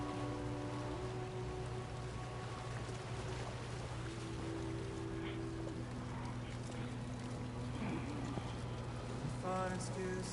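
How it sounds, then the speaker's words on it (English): Steady rain falls in the video game Death Stranding 2, a constant dense hiss with faint tonal hums from the game underneath and no talking. "Well, it's raining."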